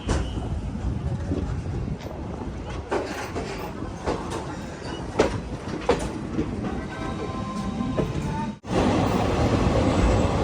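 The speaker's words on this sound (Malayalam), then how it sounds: "ഇത് ഗാസിയാബാദിൽ നിന്നും ട്രെയിൻ എടുത്തിരിക്കുകയാണ്" A Mussoorie Express sleeper-class train pulls away from Ghaziabad Junction, wheels rumbling steadily on the rails with rhythmic clatter and a brief squeal, a sharp break near the end before the loud rolling resumes; no one speaks.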